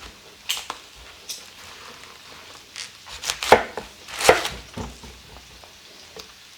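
A knife cuts through a head of cabbage in a home kitchen, giving a few scattered crunchy chops and scrapes at uneven intervals, with two louder crisp cuts near the middle, close and fairly quiet with no talking.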